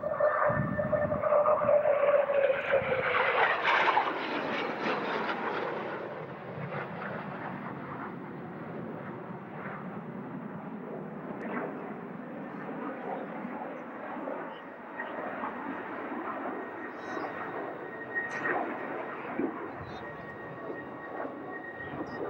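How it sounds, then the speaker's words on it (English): Military fighter jet, an air superiority fighter, roaring loudly past at a 1991 Air National Guard air show, with a rising engine whine at the start that settles into a long, broad, sustained rumble as it flies by. "Approaching from show left, ladies and gentlemen, the world's best air superiority fighter."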